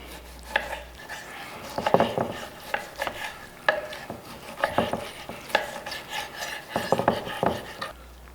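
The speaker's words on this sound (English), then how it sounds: "let's cut into the middle of this steak so you can see it" Knife sawing into a grilled steak, a series of short rasping strokes in irregular rhythm, close and fairly quiet, with faint scraping against the plate.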